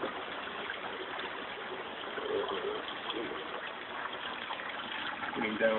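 Water flowing through a bell-less U-shaped auto-siphon in an aquaponics setup, a steady gushing trickle filling and draining continuously, fairly close and moderate in level, with a voice speaking over it.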